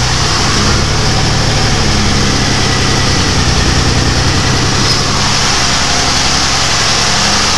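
A GM 3.4L engine idles steadily and loudly up close, with a low exhaust rumble throughout.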